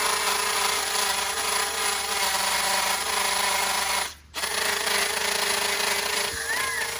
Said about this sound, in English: this drill's stuck in hammer time